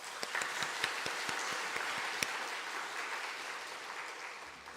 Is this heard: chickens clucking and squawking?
no